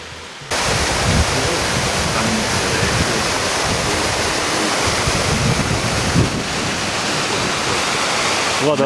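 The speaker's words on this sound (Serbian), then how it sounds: "Vodopad je sada" Bigar waterfall, partly covered in ice, roars in a steady, dense wash of falling water that starts abruptly and carries on loud and unbroken for nearly nine seconds.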